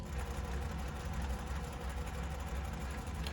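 A zigzag sewing machine stitches around a rectangle, giving a steady low motor drone with a faint rhythmic needle patter, even and continuous at close range.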